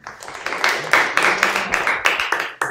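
An audience at a Christian talk claps in a dense, steady, rhythmic burst that stays loud and close throughout, with no one speaking over it.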